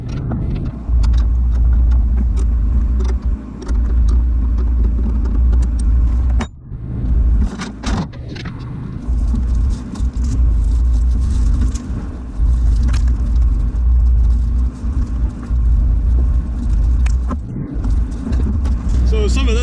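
A combine harvester running during a soybean harvest: a loud, continuous heavy rumble that dips briefly around the middle before resuming, with occasional voices mixed in.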